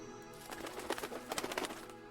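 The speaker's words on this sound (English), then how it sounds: "Bird noises." Soft bird calls from the visual novel game If My Heart Had Wings sound as a quick cluster of faint cooing chirps over a quiet, hissy background.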